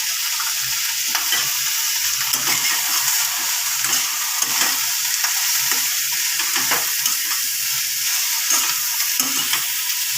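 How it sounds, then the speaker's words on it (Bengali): Vegetables with turmeric and chili powder are stirred and fried in a pan, producing a constant loud sizzle and hiss with repeated scraping stir strokes all the way through. "সব সবজিতে সব মশলা ভালো করে মিশিয়ে নিয়ে"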